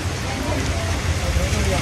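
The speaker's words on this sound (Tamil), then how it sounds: "நல்லா மழை பிடிச்சிச்சு" Steady rain falls outdoors at Merikulam near Vagamon in Idukki, Kerala, a constant broadband hiss with low rumble and faint background murmur throughout.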